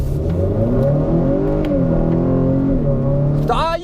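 A 2020 Acura RDX in Sport Plus launching hard from a standstill, the engine note climbing loud and close for several seconds with a steady rising drone, then a quick shift near the end.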